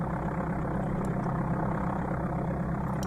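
Amiga Flight Simulator II aircraft engine noise, a steady, dense, low droning hum that holds evenly throughout, moderately quiet and without any voices.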